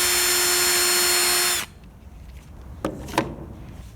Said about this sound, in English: we need to drill a hole with this nail right in the end, in the center of our fuselage.